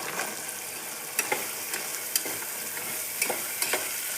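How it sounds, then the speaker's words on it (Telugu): Shelled field beans (pitiki pappu) fry on low flame with tomato and onion, giving a soft, even sizzle broken by occasional light ticks of a spoon stirring the pan. "2 మినిట్స్ ఇలా లో ఫ్లేమ్లో వేయించుకోవాలి."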